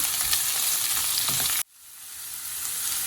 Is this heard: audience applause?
no